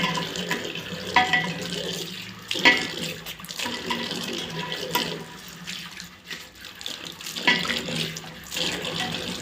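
Water running steadily from a tap into a wash basin during household cleaning, a continuous close splashing with intermittent clunks and rubbing sounds from the scrubbing.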